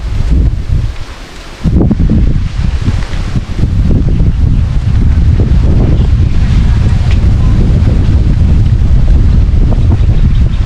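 Strong wind buffets the microphone in loud, roaring gusts, with a brief lull near the start before the blustery noise returns and holds steady.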